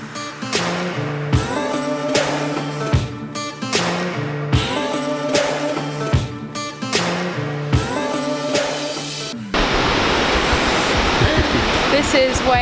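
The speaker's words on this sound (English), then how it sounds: "This is Wairere Falls, the tallest waterfall in the North Island." Wairere Falls, the tallest waterfall on New Zealand's North Island, comes in as a steady, full rushing roar once the music gives way near the end.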